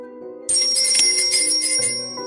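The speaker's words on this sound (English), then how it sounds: "The bell chimed again." A shop door bell rings with a bright, shimmering metallic chime that lasts about a second over a low, steady background hum as a customer enters a coffee shop.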